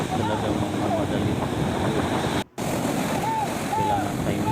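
Large ocean waves surge and roar continuously around a small fishing boat in strong wind, a loud, dense wash with buffeting wind noise and a short dropout midway.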